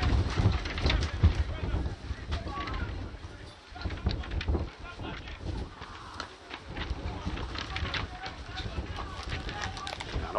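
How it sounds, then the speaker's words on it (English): Gusty wind buffets an outdoor microphone at a sports match, a constant roaring rush with bursts of crowd noise mixed in. "An upsurge in windy conditions here at the moment as Thomas."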